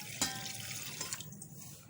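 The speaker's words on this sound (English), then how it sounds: "I'm going to add a glass of water to it" A glass of water is poured into a cooking pot, giving a brief, faint splash and trickle that fades out at the end.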